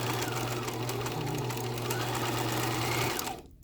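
Sewing machine stitching a seam sample in fabric at a half-inch allowance, a close, steady motor whir with rapid needle chatter running continuously before stopping near the end.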